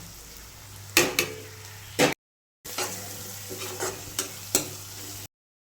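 Onion and tomato masala fries in a pan with a steady low sizzle, broken by several sharp scraping stirs from a spoon against the pan, close and clear with no talking.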